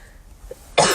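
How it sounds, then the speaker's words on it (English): A single loud, close cough bursts out near the end of the short clip after quiet room tone. "I'm going to cough."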